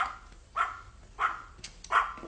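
A dog barks three times in a steady rhythm, each bark loud and close with short gaps between, set against a faint background murmur with no speech.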